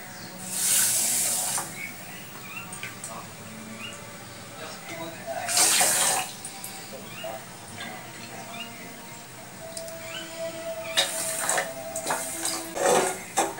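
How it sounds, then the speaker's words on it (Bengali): Water pours into a saucepan of sugar in a home kitchen in several short gushing bursts separated by quieter gaps. "চিনিটা আমি এই সসপ্যানের মধ্যে ঢেলে দিলাম। এবার দিচ্ছি জল।"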